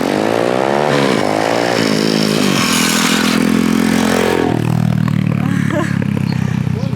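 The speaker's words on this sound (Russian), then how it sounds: "Мотоциклисты, да." Motorcycles pass on a road in a rural Polish village, their engines loud and close with whining revs that drop in pitch as they go by, then grow quieter as they move away.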